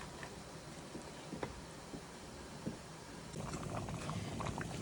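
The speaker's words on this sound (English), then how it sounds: "I've got a nice rolling boil going on here" Blueberry jam at a rolling boil in a pot, a steady low bubbling and popping that swells slightly toward the end, with soft scattered ticks over it.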